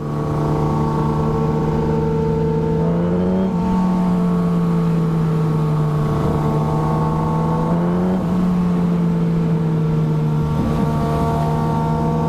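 Kawasaki Ninja ZX10R 2014 motorcycle engine revving and accelerating hard, loud and close, its pitch climbing and dropping through several gear changes with no talk.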